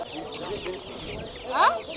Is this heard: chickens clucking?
yes